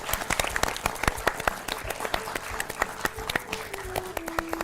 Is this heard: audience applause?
yes